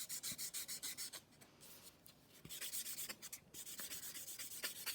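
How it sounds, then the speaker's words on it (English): A nail file smooths the surface of a fingernail in quick, even back-and-forth strokes, a soft rhythmic rasping that pauses briefly midway before resuming, quiet and close with no talking. "So this one's smoothing the surface of the nail now, smoothing everything that you've already filed."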